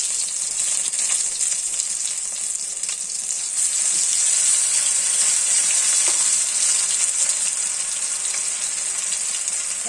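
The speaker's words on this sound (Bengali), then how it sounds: "গ্যাসটা আমি অন করে নিচ্ছি, নিয়ে তাওয়া বসিয়ে দিচ্ছি, ভেজে নিচ্ছি।" Pumpkin flower fritters in a besan, sattu and arrowroot batter fry on a hot tawa over a gas flame, a continuous bright sizzle with small pops and crackles, close and steady throughout.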